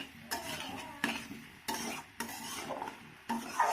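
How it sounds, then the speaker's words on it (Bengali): Potatoes and powdered spices are stirred in a pan over raised heat, giving about six rhythmic scraping strokes of a spoon against metal over a soft sizzle, close and alone without voices. "উনানের আঁচটাকে বাড়িয়ে আলুর সঙ্গে ভালো করে মশলাটাকে মিশিয়ে নেব"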